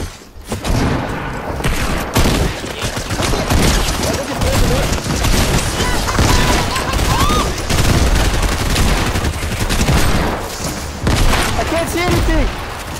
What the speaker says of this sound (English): I shot the grenade launcher and killed everyone